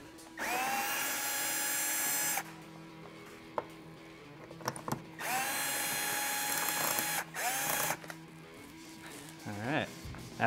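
Power driver with a Torx T30 bit whirring on roof rack fasteners of a Land Cruiser 100 Series, two long sustained runs separated by handling clatter and a short final burst, close up.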